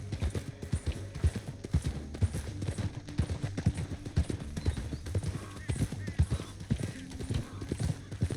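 Rapid rhythmic clip-clop of horse hooves at a steady gallop in the video game Red Dead Redemption 2, with an occasional whinny and faint background voices.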